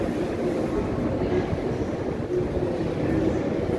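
A steady, loud rumble of a moving Moscow metro train fills the space, a continuous low roar with faint rhythmic rattling and no clear voices.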